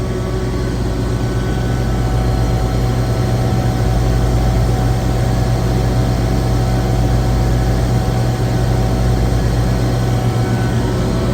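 A running compressor in an air conditioning system with low discharge superheat gives off a steady, loud, close hum with a deep droning tone and constant mechanical whine, unchanging for the whole stretch without speech.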